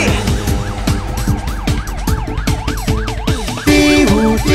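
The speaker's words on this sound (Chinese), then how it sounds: "滴呜滴呜滴滴呜呜，我是正义的超级警车" A police car siren from a children's animated musical about cars wails up and down in a steady repeating cycle, loud and close, over a bouncy music track with a brighter tone near the end.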